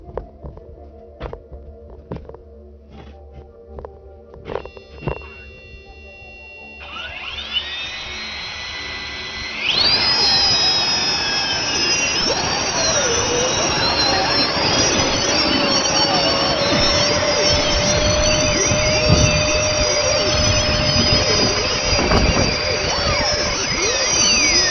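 SparrowUDD VTOL drone motors in a forward flight transition test: quiet faint ticks at first, then a rising whine at about seven seconds that jumps to a loud, steady high-pitched buzzing roar near ten seconds and holds with wavering pitch.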